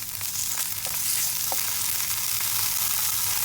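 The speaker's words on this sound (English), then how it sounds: "So now we add in the chili, the garlic, the ginger garlic paste, and we're going to saute that" Chili, garlic and ginger garlic paste sauté in a pan with a steady, close hiss of frying oil and a few soft stirring ticks, no voices.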